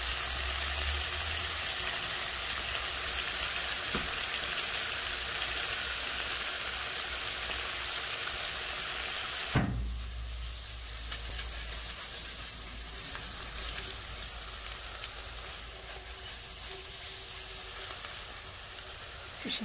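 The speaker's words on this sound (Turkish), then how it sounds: "Kızarmasını bekleyeceğim." Fresh fava beans sizzling steadily in an uncovered frying pan, a dense continuous crackle that shifts after a brief clatter near the middle.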